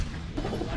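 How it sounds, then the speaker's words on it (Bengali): Flying pigeons kept on a rooftop loft coo softly in a brief, low murmur, with no talk over them. "যেমন এখানে আমাদের যে ফ্লাইং কবুতরগুলো"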